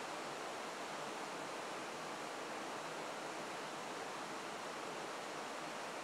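A waterfall in a wooded setting pours steadily, a dense, even broadband roar of falling water with no breaks, close and constant throughout.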